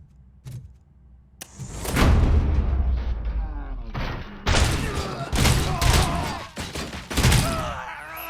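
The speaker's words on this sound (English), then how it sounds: "Shots fired." Gunfire in the video game Robocop: Rogue City bursts out in heavy, booming volleys, loud and irregular over several seconds, with a voice speaking briefly in between.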